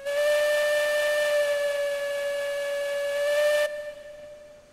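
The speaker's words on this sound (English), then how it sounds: "our whistle" A steam locomotive's whistle in the RailRoads Online game gives one loud, steady, sustained tone for several seconds before cutting off sharply, leaving a brief fading hiss.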